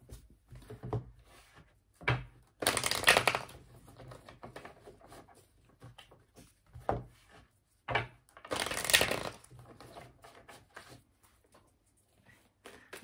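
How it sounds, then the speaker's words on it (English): Tarot cards shuffled by hand in two loud riffling bursts, close up, with quieter handling and tapping of the deck between them. "That was the shuffle."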